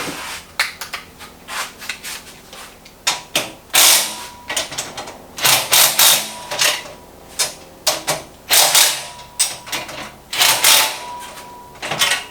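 Several short, loud rattling bursts from an impact wrench run bolts tight on a Harbor Freight four-drawer tool chest, mixed with nearby clicks and metallic handling of parts and sockets.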